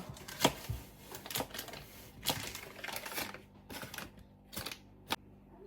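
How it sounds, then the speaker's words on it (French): Butter is cut into pieces with a knife for a hand-worked pastry dough, producing a string of soft, close, faint taps and clicks as the blade hits the board at an irregular pace. "Donc 125 g que je vais couper en morceaux pas trop gros."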